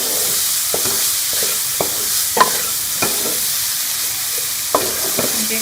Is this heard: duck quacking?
no